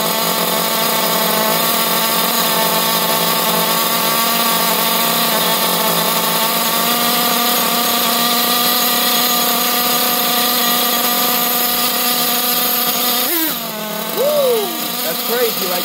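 A Losi LST XXL RC truck engine runs rich with a poorly working carb, holding a loud, steady buzzing drone before the revs briefly dip and rise near the end.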